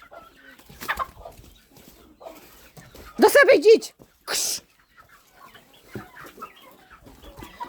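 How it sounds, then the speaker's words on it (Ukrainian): Farmyard chickens cluck and squawk in short bursts, including one loud flurry of alarmed calls, while a nearby woman shoos them away with repeated hissing sounds. "Курки."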